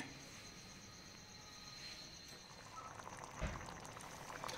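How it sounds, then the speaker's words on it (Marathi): Green chickpea-leaf curry thickened with flour simmers on a low flame, a faint, steady bubbling hiss with a soft blip near the end and no talk. "एक 5 मिनिट आपलं छान असं हरभऱ्याच्या भाजीचा गरगटा उखळतोय."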